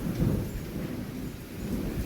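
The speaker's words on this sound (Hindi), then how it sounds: "बाहर बहुत तेज़ बारिश आ गई है" Heavy rain falls outdoors on the Gaurikund to Kedarnath pilgrimage trail, a steady dense wash with low rumbling thunder swelling near the start and again toward the end, no voices.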